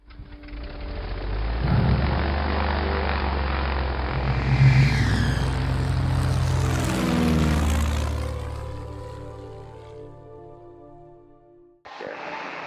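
Single-engine piston propeller drone of a Piper Cherokee Six light aircraft, loud and steady at close range, swelling slightly as power rises toward takeoff, then easing off before a brief cut near the end.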